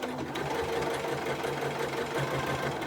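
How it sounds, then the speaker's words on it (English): A sewing machine stitches a square pin cushion with a steady, rapid mechanical hum and patter, close and continuous with no talk. "press the presser foot down, put the needle down and start sewing"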